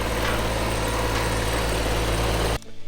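A farm tractor engine idles steadily and loudly in a continuous low rumble, then cuts off sharply near the end, leaving faint pulsing behind. Nobody talks.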